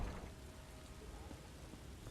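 Storm rain in The Elder Scrolls Online Summerset, a steady dense hiss of rainfall with a low rumbling undertone, constant and close throughout a short stretch.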